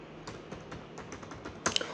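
Keys clatter on a computer keyboard as a date is entered into fee collection software, a quick run of soft, evenly spaced taps ending in a few louder clicks, close and without talk.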